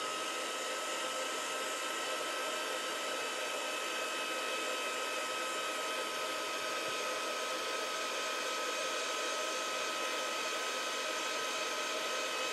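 A heat tool blows hot air to melt embossing powder on a paper craft project, producing a steady, loud, close whirring drone with no change in pitch or level and no speech.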